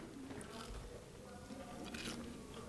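Close, crunchy chewing of a creamy chocolate dessert, with soft bites and squishy mastication under faint background sound.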